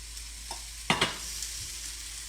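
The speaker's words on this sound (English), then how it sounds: "So I think we'll go ahead and add the lentils here. The pan's really hot because I had to boil them earlier." Boiled lentils dropped into a very hot pan for tacos burst into a sharp, loud sizzle that quickly settles into a fading hiss, with a couple of small utensil clicks.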